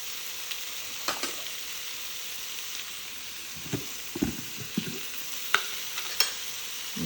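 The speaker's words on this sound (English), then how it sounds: "So just keep on sauteing this." Cumin and turmeric are sautéed for a vegan curry, a quiet, low sizzle broken by irregular scrapes and taps of a spoon stirring the pan.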